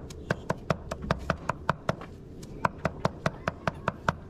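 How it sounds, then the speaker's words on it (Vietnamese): Meat is chopped with a knife on a board to make Vietnamese dồi sausage, steady sharp close thuds repeating about twice a second, with a brief pause midway. "Còn ông này ông đang băm để làm dồi nhá"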